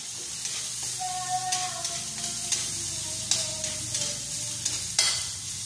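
Garlic sautés in a little cooking oil, a steady close sizzle and crackle with faint stirring scrapes running throughout and no talking.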